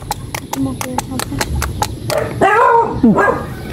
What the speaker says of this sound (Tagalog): May aso na.